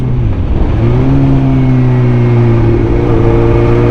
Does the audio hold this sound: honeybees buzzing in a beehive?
no